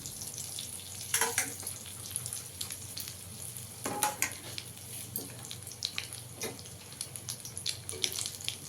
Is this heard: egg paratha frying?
yes